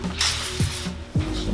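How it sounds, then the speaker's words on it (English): Bursts of water spray from a spray bottle hitting the outside of a car window being prepped for tinting, with short hissing sprays between faint handling noises, close and fairly loud. "So I'm going to spray down the outside"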